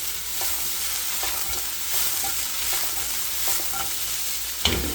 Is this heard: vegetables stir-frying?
yes